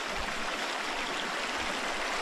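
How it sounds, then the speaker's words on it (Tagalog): After heavy rain, water spills over a spillway in a dense, continuous rushing hiss, close and steady, with no voices. "Para umapaw din yung tubig."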